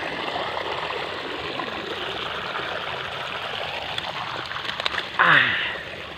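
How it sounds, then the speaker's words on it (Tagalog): Steady rushing flow of water pours continuously close by, with a short louder splash near the end. "yan ang tubig na lumalabas lahat"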